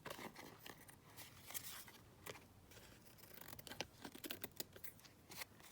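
Scissors trim around a collage paper journal card cut from a 12 x 12 sheet, with a quiet, close run of repeated snipping and papery crunches throughout.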